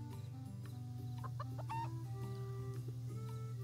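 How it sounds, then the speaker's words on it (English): Chickens clucking on a farm in the video game Harvest Moon: The Winds of Anthos, several short scattered clucks over a loud steady game music bed. "Oh, this chicken is fast"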